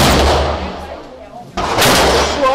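A gunshot cracks loudly at an outdoor shooting course, a single sharp blast cutting in halfway through the clip after a low ambient lull.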